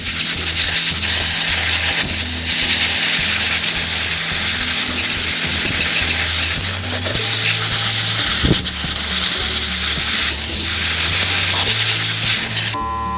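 Compressed air blasts steadily and loudly into an old, crusty, dirt-caked chainsaw, a continuous hiss close up with faint rattles underneath, cutting off abruptly at the end.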